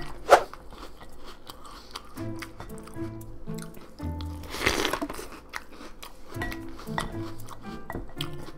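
Hostess snack cakes are eaten right up against the microphone: wet bites, crunches and chewing smacks repeat closely and irregularly, with a louder bite near the start and a burst of noisy chewing midway.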